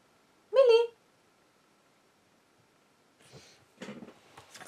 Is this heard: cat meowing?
yes